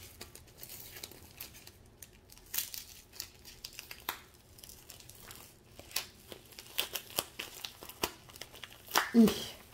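Paper envelope packets crinkling and tearing open at close range, with soft irregular rustles and sharper crackles in bursts, a voice speaking briefly between them.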